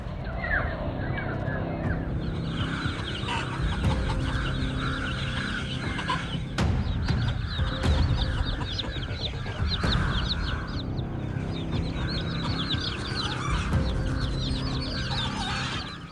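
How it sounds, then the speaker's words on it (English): Hens cluck and squawk agitatedly while fighting off a crow, amid a steady, noisy background, with occasional sharp thumps and scuffles throughout. "The hens frantically launch successive pecks and kicks at the intruder."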